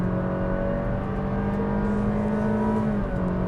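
Honda City sedan engine held at a steady, loud drone on kick down, a constant tone throughout with a faint shift-like dip near the end.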